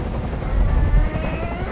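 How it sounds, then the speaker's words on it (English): A helicopter in the video game Detroit: Become Human, a steady, loud rotor drone with low rumbling thumps that hangs constantly overhead. "I can't stand that noise anymore. Tell that helicopter to get out of here."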